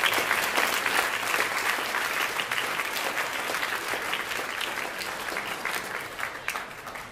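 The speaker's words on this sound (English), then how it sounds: "Let's give a round of applause to our freshmen." An awards assembly audience applauding freshmen, a full, steady round of clapping from a large room that tapers slightly toward the end.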